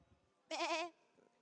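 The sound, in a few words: people imitating a goat bleating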